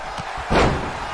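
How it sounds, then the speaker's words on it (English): A scoop slam in the WWE 2K20 wrestling video game lands as one heavy body-on-mat thud partway through. A couple of lighter thumps come before it, and a crowd murmurs faintly underneath. "Scoop slam!"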